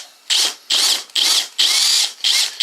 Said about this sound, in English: cordless drill, and I'm just going to drill into the foam